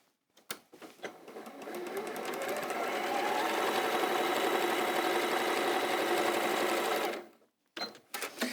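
A domestic sewing machine runs in one steady, continuous stitching burst of about six seconds, fairly loud and close, with short starts and stops before and after.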